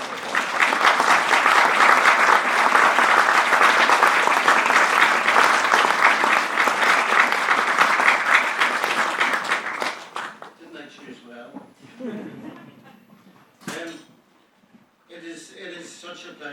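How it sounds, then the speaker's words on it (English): An audience at a book launch applauds to welcome the author Malachi O'Doherty, a loud, dense round of clapping for about ten seconds that then dies away, leaving someone speaking with scattered pauses. "please give him a warm round of applause"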